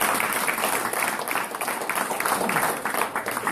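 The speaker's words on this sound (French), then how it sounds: "On peut l'applaudir." Audience applause at a scent-hound trial on roe deer, a dense burst of clapping heard up close that carries on steadily for a few seconds.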